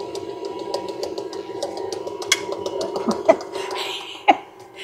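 A stand mixer runs at its lowest speed to stir cake batter, giving a steady, rapid mechanical whir and ticking, with a few sharp knocks near the end.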